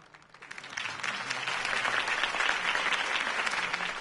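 Applause from a crowd after a campaign speech by Harvey Dent in the Batman Telltale video game, rising quickly and holding as steady, dense, full clapping throughout.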